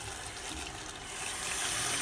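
Lukewarm water runs steadily into a container, a constant close hiss and rush of pouring liquid that grows slightly louder as it fills, with no voices.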